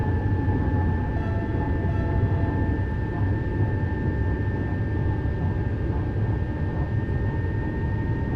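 In the Train Sim World 6 railway game, another train passes by as a steady, droning rumble with a constant tonal hum, alone and without talk.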